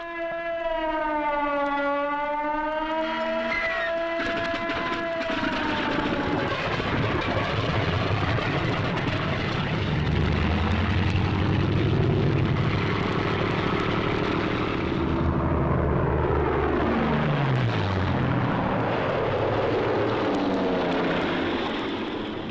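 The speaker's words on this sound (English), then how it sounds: "This captured film shows how quickly the 109s and the Focke-Wulf 190s got into action." WWII German Messerschmitt 109 and Focke-Wulf 190 fighters: a rising and falling air-raid siren wail opens the sequence, then the planes' piston engines drone and rumble loudly and steadily, with one engine note sweeping past near the end.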